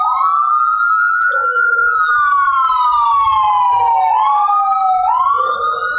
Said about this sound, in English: It's like summertime out here with the sirens.